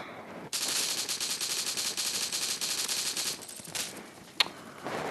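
Sustained automatic rifle fire rattles loudly in a CS:GO-style shooter, a dense burst lasting several seconds before trailing off into a few scattered single shots, with no voices over it.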